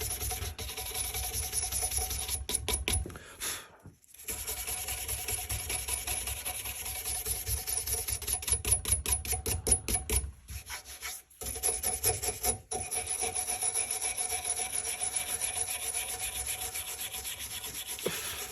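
Rapid back-and-forth scraping of a hand wire brush on a rusty old hatchet, close and rasping, in bursts broken by brief pauses.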